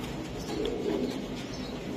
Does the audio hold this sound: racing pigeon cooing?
yes